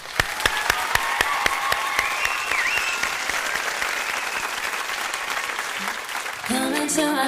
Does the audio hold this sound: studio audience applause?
yes